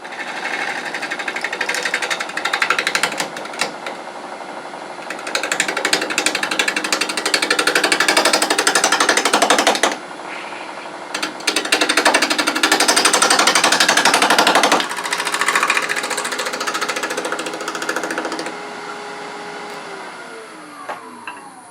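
A cherry burl bowl spins on a wood lathe as a gouge cuts the outside, giving a loud, harsh chattering buzz in several long passes with brief pauses between them.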